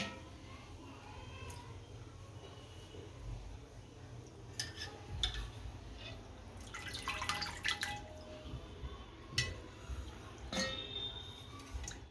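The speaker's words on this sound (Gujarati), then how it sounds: "આને પાણી નીતારી નાખી બધું" Washed potatoes for Gujarati bhajiya are drained in a home kitchen: soft drips and trickles of water with light clinks of a steel vessel, quiet and close, scattered over a low background hum.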